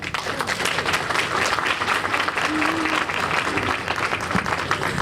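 Roaring applause from a conference audience at an educational access event, dense continuous clapping at an even level for the full stretch, with faint voices blended in.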